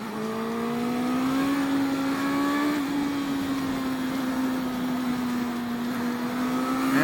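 An 80-horsepower motorcycle pulls away through traffic among cars, its engine holding a steady, loud drone that climbs slightly in pitch, with wind rushing over the rider throughout.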